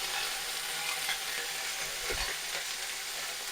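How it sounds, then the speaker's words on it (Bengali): Drumstick flowers fry in a pan of potatoes while being stirred, giving a steady close sizzle with scraping strokes of the spoon, one louder scrape near the middle. "সজনে ফুলটা দিয়ে আমি অল্প করে নেড়ে দেবো"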